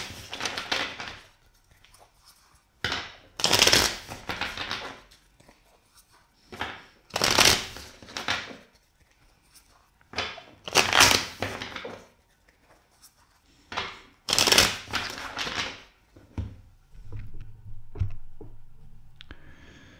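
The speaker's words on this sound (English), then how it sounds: "let's shuffle the deck four times for you" A deck of tarot cards is riffled and shuffled in several separate bursts, each a quick papery flutter followed by a pause, close and distinct.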